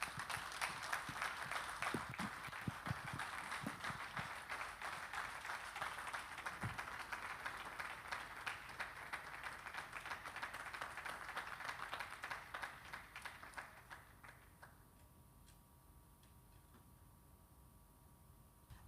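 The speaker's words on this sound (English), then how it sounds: "I think the clap says it all." An audience at a church business gathering claps after a talk on substance use and addiction recovery, steady applause at low level that tapers off and fades out near the end.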